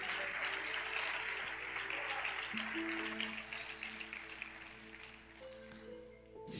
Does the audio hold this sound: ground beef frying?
no